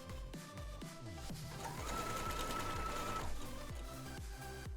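A sewing machine stitches a narrow hem up close, its motor whirring in short runs that stop and restart, with one longer steady burst in the middle and no talking.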